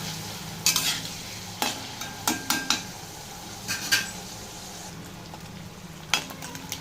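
Onions fry in oil in a pan for a prawn and gongura curry, giving a steady sizzling hiss broken by sharp clinks and scrapes of a spoon against the pan.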